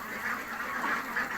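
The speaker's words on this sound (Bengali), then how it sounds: "পেকিং হাঁস আছে, ইন্ডিয়ান রানার আছে, হোয়াইট ক্যাম্পবেল আছে" Ducks on a farm, a mix of Pekin, Indian Runner, White Campbell and Khaki Campbell breeds, quack in repeated nasal bursts, several calls overlapping at close range with no talk.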